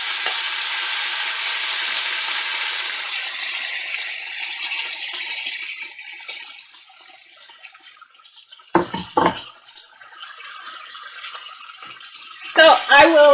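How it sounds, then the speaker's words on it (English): Chopped peppers and onions sauteing in a pan for tomatillo soup, a steady broadband sizzle for the first several seconds that fades, followed by a few sharp clatters of stirring or utensil knocks near the end. "I'm just going to take all of my chopped peppers and my onions, and we're just going to saute those for a few minutes"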